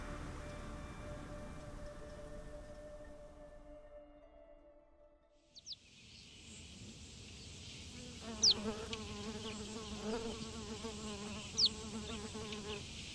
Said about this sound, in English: A swarm of flies are tormenting the peace of a sleepy lioness.